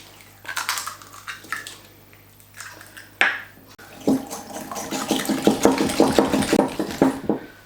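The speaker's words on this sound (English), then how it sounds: "Now you want to beat your eggs together." Eggs being beaten by hand in a bowl, quick rhythmic clicking and sloshing strokes that start sparse and become a fast, steady whisking patter, close by and without talk.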